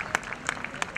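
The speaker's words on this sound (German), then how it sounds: "da freut man sich doch dann immer wieder, wenn es Applaus gibt für die Gewinner" Applause for the winners at a horse race day in Köln-Weidenpesch, a crowd clapping steadily with scattered sharp individual claps at moderate distance.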